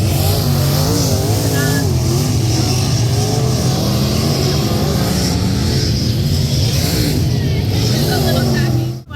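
Race cars roar around the Mountain View Speedway dirt track during heat qualifying for the Lucky Sevens points race, engines loud, close and continuous, rising and falling as they pass, with a voice talking over them.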